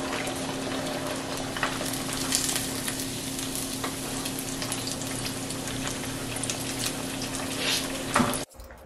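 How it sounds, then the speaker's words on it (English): Cheese donkatsu, a breaded cutlet, frying in hot oil, a dense steady sizzle and crackle with scattered pops, close and continuous until it cuts off abruptly near the end. "Fry the cheese Donkatsu longer for about 3 minutes on each side or till golden"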